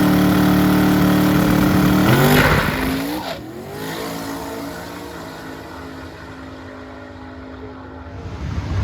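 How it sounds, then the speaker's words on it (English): Drag race car engine running with boost, a loud steady roar that rises in pitch, then drops off and settles into a lower rumble before picking up again, close and alone. "The motor runs really well."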